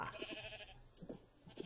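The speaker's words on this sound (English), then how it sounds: "it's a pink sheep, a naturally spawning pink sheep" A naturally spawning pink sheep in Minecraft (Tekkit modpack) bleats a few short times, faint within the game audio.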